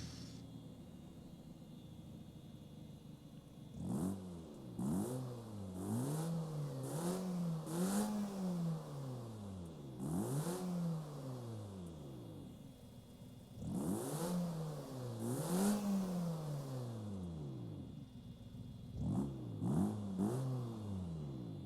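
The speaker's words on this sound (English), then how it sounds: "this is the most accurate engine sound for a replica" Simulated VW Gol GT engine in BeamNG Drive revs repeatedly in sharp rising-and-falling bursts, several blips clustered together with pauses between, loud and close with no talk.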